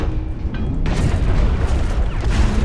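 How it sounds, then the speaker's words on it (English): A heat cannon blast from a mech in the Hawken shooter game booms with a deep, heavy rumble, loud and close, with the low roar sustained across the moment rather than fading quickly. "It looks like the heat cannon does have splash damage"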